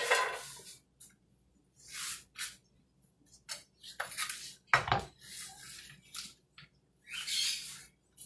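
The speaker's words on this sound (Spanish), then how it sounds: "Vamos a colocar esto en el sartén de una vez." Chopped amaranth greens dropped into a frying pan, giving bursts of crackling sizzle and rustling in uneven clumps separated by near silence, plus one brief thud, close and fairly quiet.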